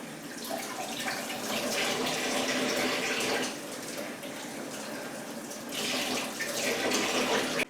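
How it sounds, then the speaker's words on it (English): One cup of water pouring from a tap into dried strawberry rhubarb pie filling ingredients, a steady splashing stream that swells, dips briefly in the middle, then surges again before cutting off. "So to this I added 1 cup of water."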